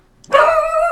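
A pet dog gives a single loud, sharp bark indoors, close by and alone.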